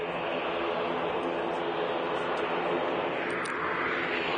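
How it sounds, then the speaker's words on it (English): Gulf Air Boeing 787-9 Dreamliner at Manchester Airport, a steady broadband jet engine roar that holds at the same level throughout, heard from a distance outdoors. "It's a Dash 9 Dreamliner with Gulf Air."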